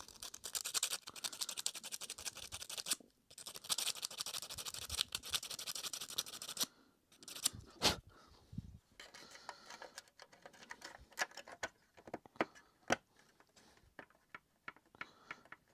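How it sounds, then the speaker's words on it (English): Sandpaper rubbed against a plastic Vortech Force 3 vacuum cleaner part, bursts of dry rasping strokes, then a pause and a run of quicker, scratchy ticks and taps, close and fairly quiet. "Let me get a little bit of sandpaper."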